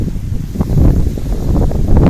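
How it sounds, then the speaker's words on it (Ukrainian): Strong wind buffets the microphone with loud, constant low roaring gusts at a carp pond shore, no voices heard. "Вітер дує так, що хай Бог милує."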